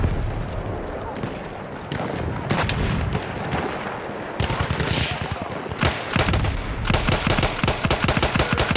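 In the Battlefield 1 multiplayer battle, rapid bursts of gunfire and heavy booming shots crack repeatedly and loudly, the volleys growing denser toward the end.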